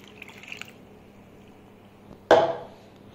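Water poured into a bowl of flour for Italian bread dough, heard as a single sudden splash and gurgle late in the clip after quiet kitchen sounds, close and fairly loud.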